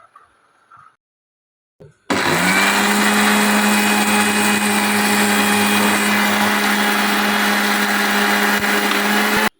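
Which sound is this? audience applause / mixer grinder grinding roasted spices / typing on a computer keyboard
mixer grinder grinding roasted spices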